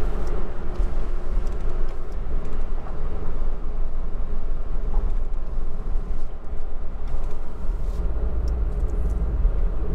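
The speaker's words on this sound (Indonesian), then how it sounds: "Nah, mau dengerin angin?" Steady broadband road and wind noise fills the cabin of a Suzuki S-Presso AGS while it is being driven, a constant low rumble with airy hiss on top and no talking.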